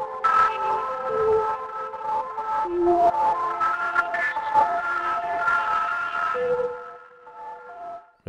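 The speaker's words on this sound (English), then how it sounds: "Very breathy sound here. You can really hear the sound of the whistling." A breathy whistle sample from an Ableton Live whistle pack plays a clear melodic line of sustained and gliding tones with reverb, then fades to a soft tail.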